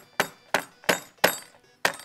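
Whole olives for pickling are cracked with a pestle: five sharp, close knocks at uneven intervals, each a crisp hard impact that dies away quickly, with no talking.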